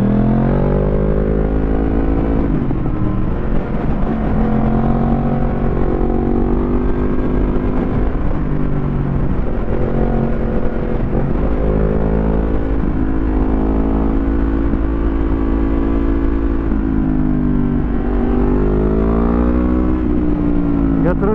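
Motorcycles, a 2022 BMW 1600 GT and a Yamaha MT-10, accelerate along a winding mountain road, the engine drone steady and close with repeated rising pitch sweeps as the rider rolls on the throttle.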